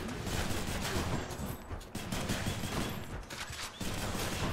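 Dense, rapid gunfire from a gun in the Hades video game, a continuous rattling barrage with brief dips, loud and close, with no talk.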